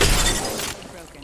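A shield shatters in the Apex Legends battle royale game: a loud, bright glassy crash that rings briefly and then fades.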